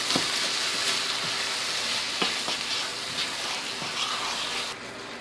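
Apples with lemon juice cooking down in a pot for apple butter, a steady close sizzle and bubbling with occasional soft taps and stirs, no voices.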